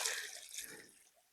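A gallon of liquid splashes out onto the soil around a newly planted hardy peach tree, a brief close wet pour that trails off within a second.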